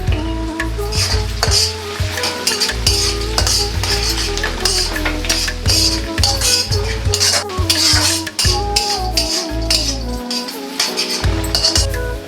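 Onions frying in a pan for Rayalaseema uggani bajji: a constant sizzle with frequent clinks of a ladle against the pan, under steady background music.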